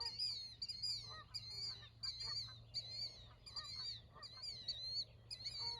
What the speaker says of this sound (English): Like, the birds are so loud.